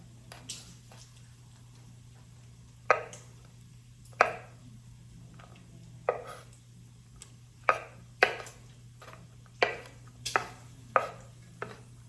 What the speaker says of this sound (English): I'm just gonna chop that up, little pieces